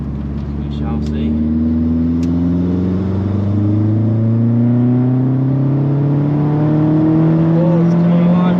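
An old-school Vauxhall Zafira GSI engine pulls hard and loud, its pitch rising steadily over several seconds as the car accelerates.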